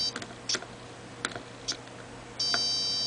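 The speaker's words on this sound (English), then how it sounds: "this is giving a beep" A multimeter in continuity mode sounds a steady tone, held from about two and a half seconds to the end, across a fischertechnik motor and transistor circuit. Earlier, short clicks and taps from the probes come through faintly in a quiet room.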